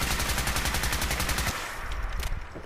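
A modded weapon with an explosive legendary effect fires in Fallout 4, a rapid automatic burst of close, loud shots that cuts off into a short echoing tail with a few scattered impacts.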